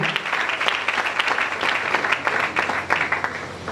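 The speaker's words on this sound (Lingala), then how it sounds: "Acclame très fort pour le Seigneur" A church congregation applauds loudly for the Lord, dense steady clapping filling the room for several seconds with some voices mixed in.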